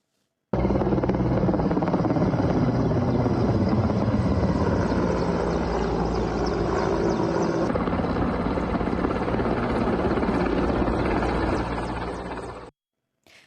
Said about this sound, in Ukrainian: Гасити пожежі допомагає й авіація.